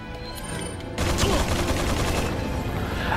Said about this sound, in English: we got this bastard shooting us left and right